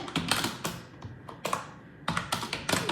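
Computer keyboard keys clack close up while drafting in AutoCAD, an uneven run of crisp taps in quick clusters with brief pauses, and no talking.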